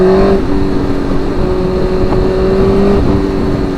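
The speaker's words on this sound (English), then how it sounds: "I'm taking this bike out right now for a little ride" A motorcycle rides in 30-degree cold weather, its engine droning loud and steady up close with a sustained tonal whine and rumble, no speech.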